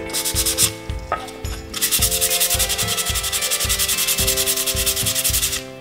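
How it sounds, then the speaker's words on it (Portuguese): Edges of a cured epoxy resin piece being sanded by hand with multipurpose sandpaper: loud, close, rhythmic back-and-forth rasping strokes, steady and evenly paced throughout with no talking. "Agora nós vamos lixar todos os cantos para ela ficar bem lisinha."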